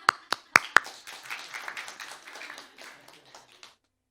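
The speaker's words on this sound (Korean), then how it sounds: "박수." A church congregation gives a few sharp, loud hand claps, then a softer, scattered patter of clapping that thins out and stops.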